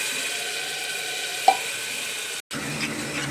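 Onion, garlic and green chili masala paste fries steadily in a pan for a spicy chickpea dish, a continuous close sizzle with one small sharp pop and a brief dropout near the end.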